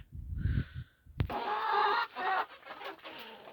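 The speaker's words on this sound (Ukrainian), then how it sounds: "Подивимося, що там кури ще роблять" Several chickens cluck and squawk close by in short bursts, with a brief thump partway through.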